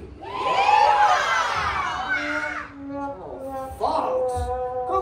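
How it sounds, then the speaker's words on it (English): Audience at a western show letting out loud cowboy yells on cue, a dense burst of whooping and hollering from a crowd that trails off into scattered shouts and children's voices. "I need to hear your roughest, your toughest, your loudest cowboy yell that y'all can muster"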